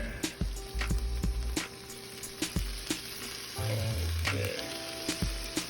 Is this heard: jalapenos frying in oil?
yes